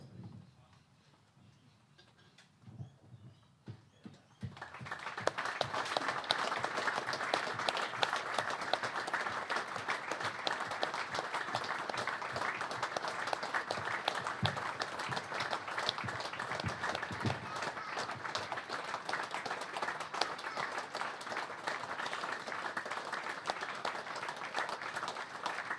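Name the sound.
minute's applause from a football crowd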